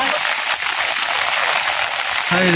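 Heavy rain pours down in a steady, dense hiss that fills the whole clip, loud and close, with a brief low voice near the end.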